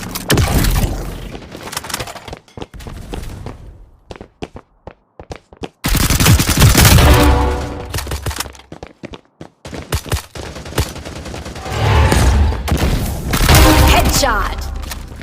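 Gunfire in the video game Hyper Front: loud bursts of rapid shots and thuds in clusters, separated by short quiet gaps with scattered single cracks.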